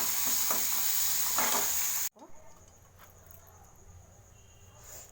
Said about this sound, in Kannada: ಸ್ವಲ್ಪ ಕರಿಬೇವು ಚೆನ್ನಾಗಿ ಮಿಕ್ಸ್ ಮಾಡಿ